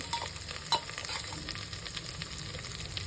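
Sambar masala stirred into a pan of tempered spices with curry leaves and ginger-garlic paste, giving continuous close scraping and stirring over a steady frying sizzle.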